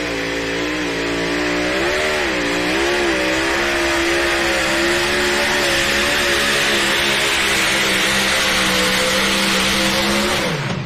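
A pulling tractor, the B-Bear tractor, roars under full load at a truck and tractor pull in Bowling Green, Ohio, a loud, steady, harmonic engine howl that rises and falls slightly before cutting back near the end.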